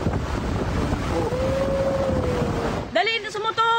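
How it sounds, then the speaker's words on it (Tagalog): Raging sea waves and strong wind roar in a continuous loud rush during Super Typhoon Pepito in Legazpi, Albay, with wind buffeting the microphone, and a voice cuts in near the end. "Nagngangalit din ang alon sa Legazpi, Albay kaninang umaga."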